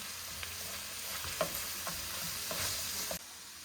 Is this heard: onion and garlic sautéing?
yes